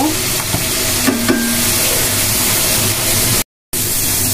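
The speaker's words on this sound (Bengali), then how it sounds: "মশলাটা সুন্দর করে কষাই নেব" Masala spices sauté in a hot pan for a Bengali home-style dish, crackling and hissing loudly with a few stirring clinks, then the sound briefly cuts out before resuming.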